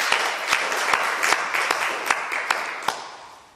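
A church congregation claps together in thanks after a sermon prayer, a dense, even wash of applause with a few sharper claps standing out before it fades at the end.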